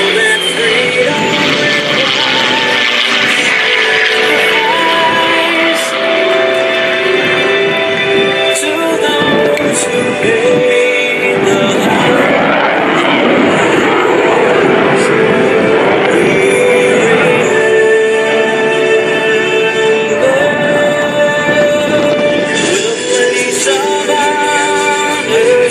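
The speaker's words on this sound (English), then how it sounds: "We hope you have enjoyed watching this rare formation flight of classic and current Air Force aircraft." USAF Heritage Flight formation of classic and current Air Force aircraft at an airshow open house, a broad roaring jet and propeller wash that stays loud throughout, with shifting whine and a noisy outdoor crowd.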